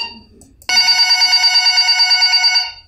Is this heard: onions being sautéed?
no